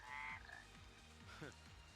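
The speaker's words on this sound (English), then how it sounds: "Big frog. Mud frog." Low, regular croaks from a mud frog in Final Fantasy XIII pulse about four times a second, with a short higher chirp at the start and another near the end, quiet and close.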